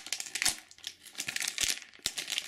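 A plastic packet from a Lalaloopsy surprise toy crinkles up close in irregular bursts, with a few sharper crackles and rustles over two and a half seconds and no speech.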